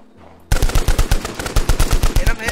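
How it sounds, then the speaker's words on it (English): Rapid automatic gunfire from enemies in the Roblox survival game Trident Survival, a steady string of about a dozen loud, sharp shots after a brief quiet start, with no talk over it. "They're shooting at me."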